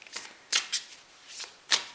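Tarot cards being shuffled by hand, a few short crisp riffles and slaps spaced irregularly, close and fairly quiet, with no talking.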